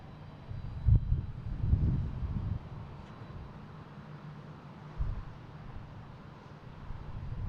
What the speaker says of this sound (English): Japan Airlines taking off. Heading to Tokyo Narita.